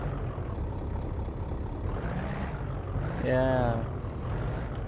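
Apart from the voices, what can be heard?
car engine running in video game My Garage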